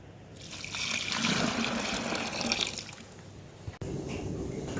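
Boiling water and cold tap water poured together in a home kitchen to make brine for Romano and Pepato cheeses, a steady close trickle and splash that runs for several seconds with a brief break near the end.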